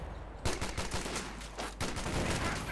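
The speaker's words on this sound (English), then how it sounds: "Bit of shooting there." Rapid, dense gunfire crackles from a Company of Heroes 2 World War II battle between US and Wehrmacht forces, with overlapping volleys and machine-gun bursts sustained throughout at steady loudness.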